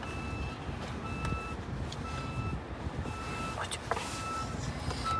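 A car reverses with its reversing sensor giving a steady series of evenly spaced electronic beeps over engine hum and road rumble, while a voice speaks quietly nearby.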